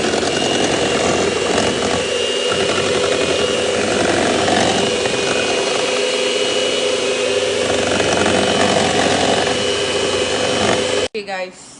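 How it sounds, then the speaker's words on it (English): An electric blender beats whipping cream for black forest cake frosting, a loud, steady motor whine running close and continuously for nearly the whole stretch before cutting off abruptly at the end. "I like to always beat it, blend it using my own blender."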